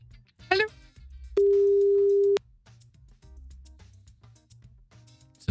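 A telephone call failing to connect on a live French radio show: a short chirpy tone burst, then a single steady electronic beep lasting about a second, with quiet room noise around it.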